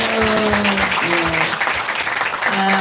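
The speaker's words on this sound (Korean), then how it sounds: "박수" A church congregation at a revival meeting breaks into a steady burst of close applause, with a voice sounding faintly beneath the clapping.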